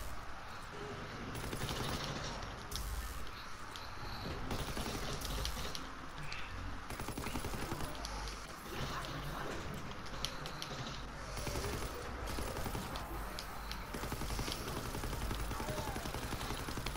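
SVT rifle fire in a video game: repeated sharp shots and bursts throughout, with mechanical clatter between them and no talk.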